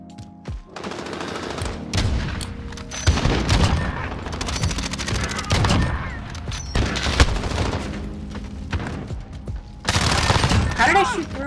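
Bursts of gunfire in a tactical shooter match where bombs get planted and defused: rapid rifle volleys and single shots recur across the stretch, loud and close, with a heavy burst near the end.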